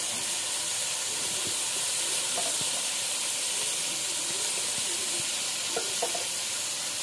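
Tomatoes and curry leaves frying in a pan for tomato rice give a steady, close sizzle and hiss throughout, with faint occasional clinks, and no voices.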